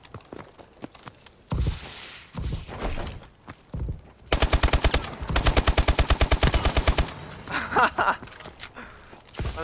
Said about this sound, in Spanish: Mira cómo salto después de disparar.